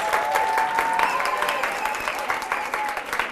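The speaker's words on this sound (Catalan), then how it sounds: "Un aplaudiment per ells." A studio audience at a televised quiz show claps steadily, a dense, close burst of applause lasting several seconds.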